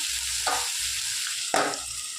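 Ivy gourd curry cooking in a covered pan on a medium flame: a soft, continuous sizzle with two brief louder scrapes of stirring, close and alone.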